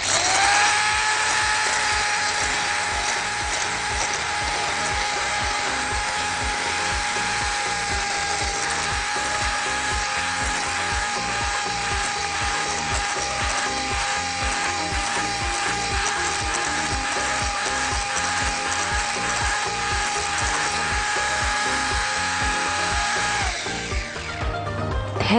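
Electric hand mixer whirring steadily as it beats soda cake batter for a strawberry soda cake while oil is poured in, a continuous loud motor drone that stops near the end.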